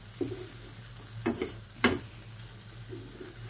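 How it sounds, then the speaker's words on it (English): Cabbage cooking down in a pan for Jamaican bully beef sizzles steadily while a utensil stirs it, giving a few scraping knocks at irregular moments over the constant frying hiss, close up and with no talking. "So give it all a good stir"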